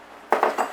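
A spoon knocks against the side of a pot of chicken minestrone soup three times in quick succession, close and crisp, with no talk.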